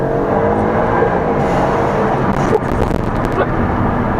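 An Alfa Romeo Stelvio Quadrifoglio SUV driven on the road in dynamic mode, its engine note loud and continuous from inside the car as it accelerates, with brief clicks and road noise layered over the steady drone.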